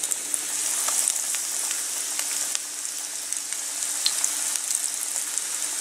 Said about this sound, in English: So we'll just get these lamb cutlets in there.